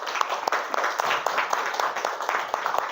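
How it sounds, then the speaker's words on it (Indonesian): Classroom applause for classmates, with a cluster of hands clapping in a quick, uneven patter at moderate loudness for the whole stretch, and faint voices mixed in underneath. "Beri aplaus untuk temannya."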